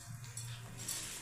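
Roasted chana dal being stirred and fried in a pan, a low steady sizzle with soft scraping of the spoon, quiet and continuous with no talking.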